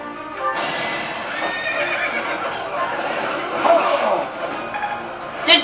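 A horse in Fire Emblem Three Houses gives a loud, long whinnying neigh with clip-clopping hooves underneath, lasting several seconds close up.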